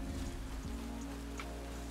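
Steady rain falls in the game Satisfactory, a soft even hiss of drops outside a cave, brief and fairly quiet with no talk.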